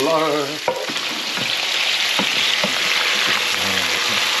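Garlic and scungilli (conch) fry in a pan for an Italian marinara, a steady bright sizzle running throughout with a few utensil clicks and stirs, a brief voice at the start.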